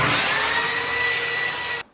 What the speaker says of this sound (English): Turns out little belt sanders are not made for this heavy duty of work.